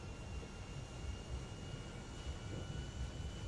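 An airplane engine drones steadily in the video game GTA 5, a continuous broad roar at moderate level with no talking.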